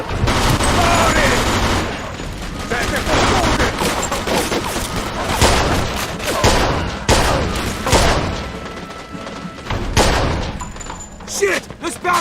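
Gunfire rages through a mafia video game shootout: rapid bursts and booming shots fire back to back at close range, loud and dense, with characters shouting over the fusillade.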